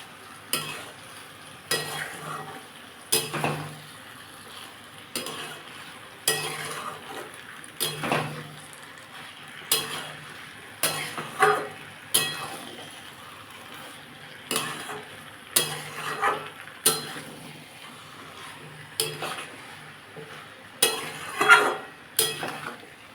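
Egg and potato frying in a pan, with steady sizzling broken by repeated scraping stirring strokes roughly every second, close and fairly loud, with no voices.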